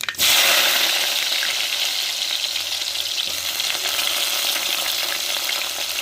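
Chopped onions and fenugreek seeds frying in hot oil make a loud, continuous, close sizzle that stays even throughout, with a faint crackle underneath.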